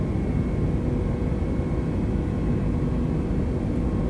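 Airbus A320 engines spool up on a take-off roll in MSFS 2020, a steady loud broadband roar with a low rumble and a faint whine, continuous and unbroken, with no talking.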